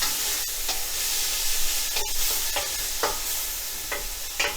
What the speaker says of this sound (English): I'm just going to let my onions cook for about a minute and a half, get translucent.